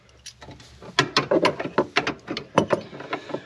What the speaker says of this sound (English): Where's my wrench?